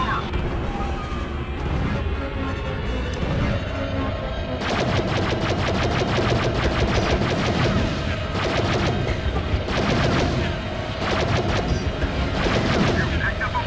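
Starfighter blaster fire in the Star Wars Battlefront 2 video game, with rapid bursts of laser shots repeating over a steady engine and battle drone, getting denser and louder after the first few seconds.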